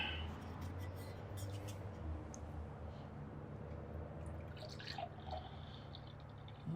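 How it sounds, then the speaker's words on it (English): Anchor Our Special Ale poured into a glass, a steady close liquid gush and fizz running throughout with a few faint drips near the end. "And let's see how this one pours."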